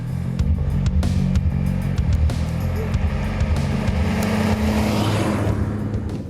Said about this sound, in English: Here we are chugging along in our little 1-litre Seat Arosa